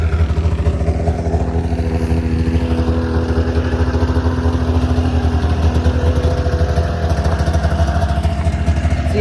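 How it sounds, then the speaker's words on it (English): A ZL 500 snowmobile engine with an overheating issue, running at a steady idle with a continuous low rumble and clatter, close and loud, with no talking. "that's the snowmobile."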